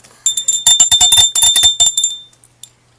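A rapid burst of bright metallic bell dings, several quick strikes in a cluster, loud and close, ending in a fading ring.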